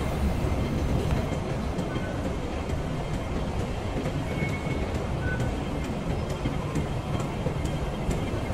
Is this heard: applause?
no